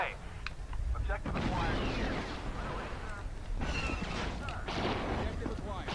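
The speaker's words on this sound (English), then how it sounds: "And we're shooting him through a little gap." Gunfire and blasts in Star Wars: Battlefront on PS2, a dense, loud stretch of shooting and explosions with bursts that swell and fade over several seconds, mixed with background battle noise.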